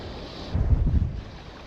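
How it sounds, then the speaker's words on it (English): Gusty wind on a hillside riverbank during fly fishing in the Galloway Hills, roaring across the microphone in a loud low rumble that swells for about half a second, then eases to a steady rush. "wind's not doing me any favours"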